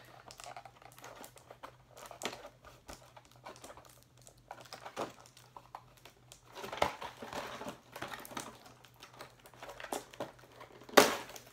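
Toy packaging being opened and crinkled, a Cars Wally hauler toy bought at Walmart, with scattered plastic and cardboard crinkles, small tears and rustles at close range, growing busier midway and ending in a sharp loud rip.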